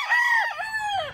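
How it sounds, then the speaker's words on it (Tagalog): On a farm, a rooster crows loudly and close by, one long drawn-out call that rises and then falls, with a faint murmur of other chickens underneath. "So, napakaraming chicken dito sa farm nila."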